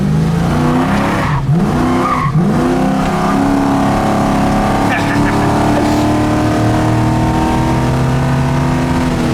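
A 1971 Chevrolet Camaro SS accelerates hard, its loud engine roar rising through quick gear changes with a brief tire squeal, all heard up close.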